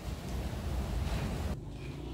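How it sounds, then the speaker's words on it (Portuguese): Strong wind blows across the microphone outdoors on a rural homestead, a loud, steady low rumble that drops off abruptly near the end, with no voices. "Nossa, gente, é que tá ventando"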